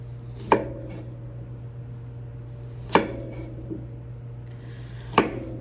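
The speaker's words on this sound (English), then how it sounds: "as you cut the carrot, it can start to bow out" Knife chopping through a carrot on a cutting board while cutting julienne strips, three sharp crisp cuts spaced about two and a half seconds apart over a steady low hum.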